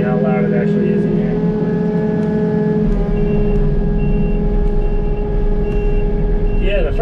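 A Takeuchi TB260 compact excavator engine revs, heard from inside the cab as a loud, steady diesel drone with tonal whine and clatter throughout.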